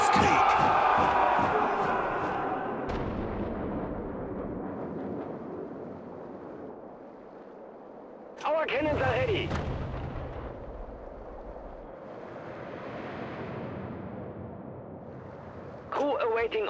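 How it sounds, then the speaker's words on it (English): Cannon artillery fire in a real-time strategy video game: booming blasts and crashing impacts at the start and again midway and near the end, mixed with game crowd shouts and spoken unit lines. "Prepare your cannons."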